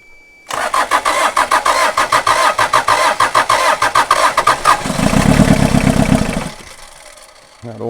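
Pickup truck engine cranking with a rapid, rhythmic starter churn for several seconds, then catching and surging loudly before settling back toward idle.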